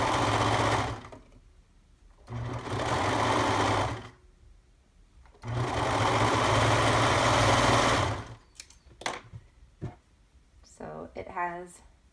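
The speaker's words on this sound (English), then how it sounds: "we are serging all along that arm side" A serger sewing machine stitches along the arm side of a garment in three loud, steady runs of a few seconds each, separated by pauses, with someone speaking quietly between and after the runs.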